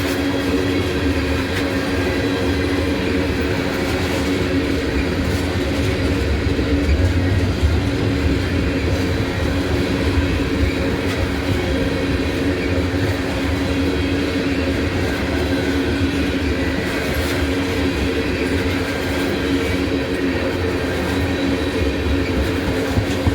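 A freight train of privately owned cars rolls steadily past at Abbeville, a continuous loud rumble of wheels and rattling wagons with faint clacks and squeals, unbroken for over twenty seconds with no voices.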